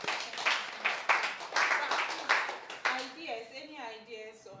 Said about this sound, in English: Let's clap for Edna.